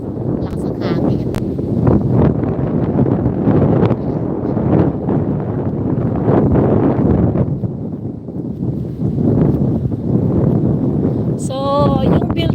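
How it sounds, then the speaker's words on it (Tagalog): Strong wind buffets the microphone in Wascana Park near the legislative building, a loud, continuous roar with gusty swells throughout and brief bird chirps near the end. "Lakas ang hangin."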